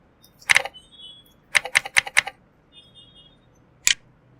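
Several sharp keystrokes on a computer keyboard: one isolated tap, a quick run of four presses, then a final single click, crisp and close against near silence.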